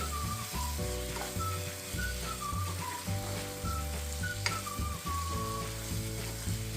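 Mutton curry masala sizzling in a pan as it is stirred, a dense continuous fry with occasional scrapes, under a steady tonal hum and faint melodic background music.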